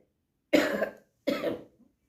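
Two separate harsh coughs from a person with a cough, close and fairly loud, with a short pause between them and silence before and after.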